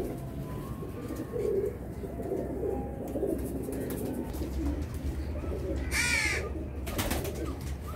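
Pigeons coo softly in a loft, low repeated calls with a few brief wing flutters and rustles, fairly close, no talking.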